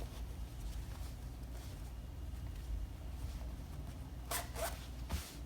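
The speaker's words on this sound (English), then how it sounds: "So I'm gonna pull my zipper down." A zipper on a handmade mermaid skirt is pulled down in a quiet room, giving a couple of short, soft rasping zips near the end.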